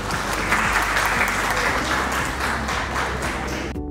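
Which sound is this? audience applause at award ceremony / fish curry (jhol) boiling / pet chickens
audience applause at award ceremony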